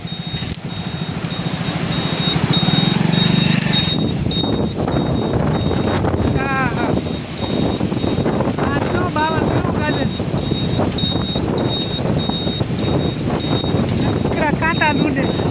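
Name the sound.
strong wind blowing in a village storm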